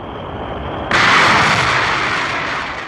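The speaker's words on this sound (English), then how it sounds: "The escape rocket takes the capsule away from the booster." A Mercury escape rocket fires off the top of an Atlas booster, a sudden loud roaring blast that kicks in after a quieter hum and holds as a sustained, dense rush to the end.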